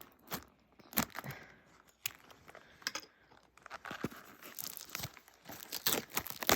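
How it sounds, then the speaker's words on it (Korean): Pokémon trading card packs and a box being opened by hand, with close, irregular bursts of plastic foil tearing and crinkling, crisp rustles coming in quick clusters throughout. "두 번째 박스 개봉 들어가 보겠습니다"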